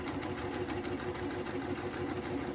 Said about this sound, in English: So we're going to sew on that line all the way down.